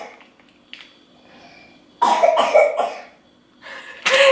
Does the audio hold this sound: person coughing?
yes